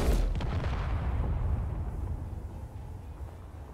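A warhead detonates against heavy armor blocks in the Space Engineers game, a loud close boom that rolls into a long, fading rumble.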